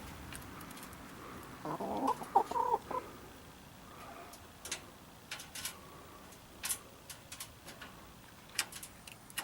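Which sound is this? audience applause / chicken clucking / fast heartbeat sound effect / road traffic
chicken clucking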